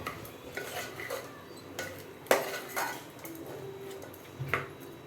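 Mushroom pieces stirred and sautéed in masala in a pan for mushroom biryani, with irregular scraping clinks of a spoon against metal and a few sharper knocks, fairly close, no voices.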